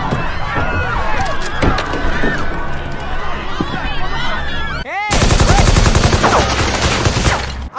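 Gunfire in a Deadpool movie battle, loud and dense, with sustained bursts across the clip and a sharper, heavier volley near the end, mixed with score and brief voices.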